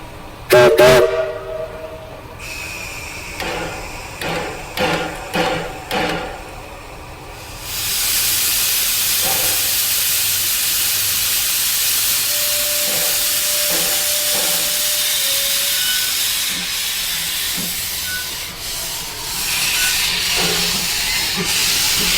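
A steam locomotive pulling a Christmas train at Alderlea Station gives several short whistle blasts, then releases a loud, sustained hiss of steam that runs on for many seconds, with faint mechanical clanks beneath.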